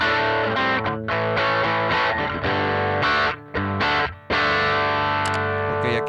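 An electric guitar runs through the Bass Mate amp model of a NUX MG30 multi-effects unit, a loud, driven tone with sustained chords and a few short gaps between strums, with no talking.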